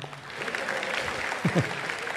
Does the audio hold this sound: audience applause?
yes